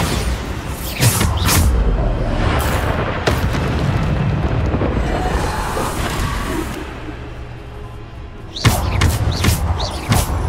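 Bombarda blasting spells in the Hogwarts Legacy video game: repeated heavy booming blasts and thuds with crashing debris, loud and close, some bursts clustered near the start and again near the end.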